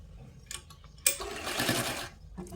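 A sewing machine stitches the fall onto a saree's edge in one loud, steady burst of about a second, with softer handling noises just before and after.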